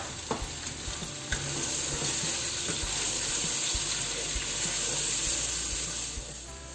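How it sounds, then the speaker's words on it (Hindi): Ginger and garlic fry in a pan for a chicken curry with green beans and potatoes, giving a steady close sizzle with occasional stirring knocks and clicks. "अदरक लहसुन डाल के इसको 1 मिनट के लिए भूनेंगे"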